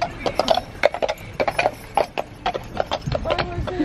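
Horses walk with a steady, rapid clip-clop of hooves, close and loud, over a rumbling background throughout.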